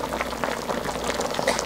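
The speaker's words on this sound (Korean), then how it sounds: "물러질 때까지 조금 더 끓일게요" Chicken soup with glutinous rice bubbling in a pot, a steady, close, continuous simmer with small pops and gurgles throughout, no voices.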